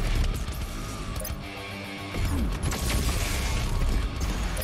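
Loud BFG weapon fire in Doom Eternal, with heavy booming blasts and crashing impacts over a dense mechanical din, with a brief lull before another burst.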